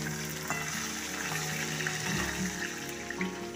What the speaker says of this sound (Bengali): মাছের মাথাগুলোকে উল্টে পাল্টে লাল লাল করে ভেজে নিচ্ছি